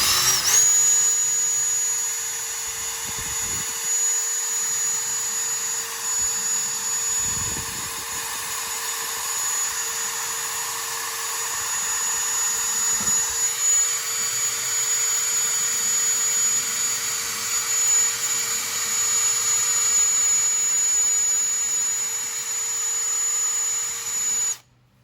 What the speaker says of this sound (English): So I thought, what a good chance to try out the wire brushes.